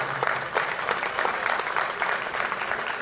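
Moderately faint crowd applause follows a falcata and spear combat reenactment with shields, a brief burst of scattered clapping from onlookers, heard from some distance.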